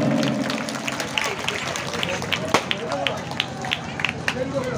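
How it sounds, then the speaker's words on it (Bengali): An audience at a school cultural function claps for the teachers, a continuous wash of applause with crisp individual claps standing out, mixed with crowd voices and murmur. "এটা সবাই মিলে হাততালি হোক মাস্টারমশাইদের জন্য।"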